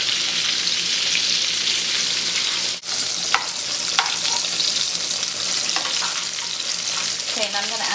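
Food frying in a pot, a loud, dense sizzle that runs steadily throughout with a few short clicks and one brief dip partway through.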